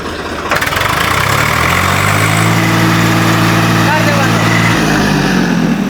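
A 2007-model tractor engine, kept in original condition, runs loud and close, a sharp start followed by a steady idle that rises as it is revved, with a few voices faintly under the engine.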